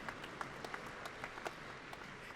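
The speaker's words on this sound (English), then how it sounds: "Give yourselves a round of applause." Faint, distant audience applause with scattered individual claps standing out over a soft, steady patter.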